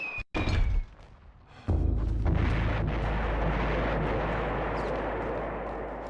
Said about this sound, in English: I can hear the sound of explosions and gunfire